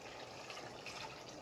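Meat stock water poured into a pot of Nigerian okra and spinach soup, a steady, close liquid splash and gush filling the whole brief moment without any talk.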